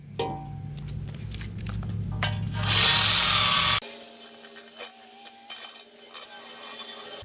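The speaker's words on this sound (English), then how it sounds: "I turned to this wire brush sander on a drill quite a bit" A wire brush spun by a drill scours rust from the body of a Class B camper van, making a continuous gritty whirring and scraping that rises to a harsh, loud hiss midway, then turns to a steadier grind.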